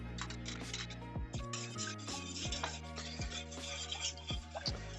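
A spoon stirs a black cherry jam chilli glaze in a pan, giving repeated scraping clinks against the metal over a soft sizzle, close and steady, with no voices.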